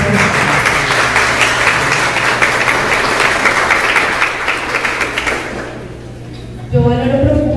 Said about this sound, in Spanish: quiero que todas se den un aplauso por su participación